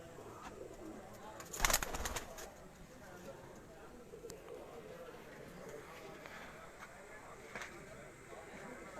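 Pigeons at a rooftop loft coo softly in the background while someone talks over them, with a sharper rustle or clatter early on.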